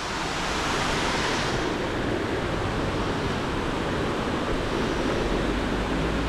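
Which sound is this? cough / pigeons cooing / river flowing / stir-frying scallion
river flowing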